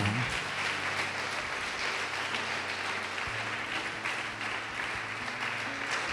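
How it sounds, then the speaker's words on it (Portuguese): A church congregation applauding during a sermon, with steady, distant-sounding clapping that fills the room evenly for several seconds at modest loudness. "Pode aplaudir o Senhor e glorificar."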